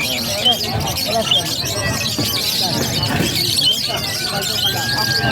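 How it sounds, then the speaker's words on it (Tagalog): Birds at the Bulacan Bocaue pet market chirp and squeak in short, scattered calls amid busy, loud background market noise and nearby chatter. "Boss, ito, kakaibang ibon to ha."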